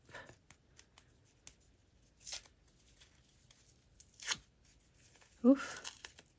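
Paper medical tape torn off a roll in a few quick, soft ripping strips, spaced apart with small handling clicks between, close and quiet with a voice briefly present.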